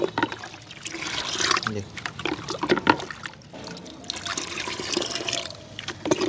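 Fertilizer mixture being stirred into about 1.5 liters of water for marigold plants, a continuous close sloshing and trickling of liquid with a voice speaking briefly over it.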